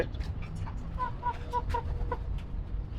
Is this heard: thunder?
no